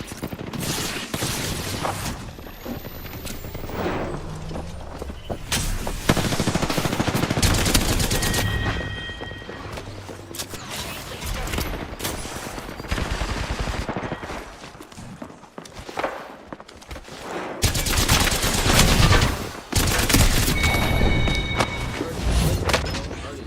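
Video game gunfire crackles in repeated bursts and rapid automatic volleys, mixed with thuds and running footsteps. The action is loud and near, with a player's voice speaking at times.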